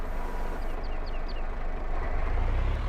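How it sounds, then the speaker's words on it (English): Truck in Farming Simulator 22 braking hard, a loud continuous engine rumble with a burst of faint chirping squeals midway and a deep low-end surge toward the end, no voices. "Testing my brakes."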